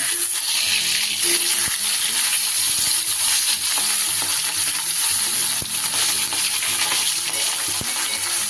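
Bata fish fries in hot oil in a pan, a loud, dense, steady sizzle close by with occasional light clinks and scraping, no talking.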